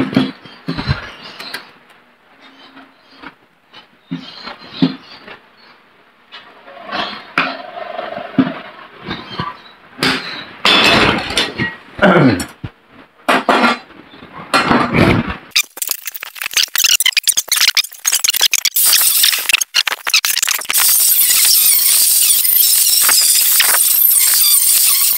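An angle grinder cuts tubular steel: irregular grinding bursts at first, then a loud sustained high-pitched shriek of the disc biting through the metal for the last several seconds, close and unaccompanied by talk.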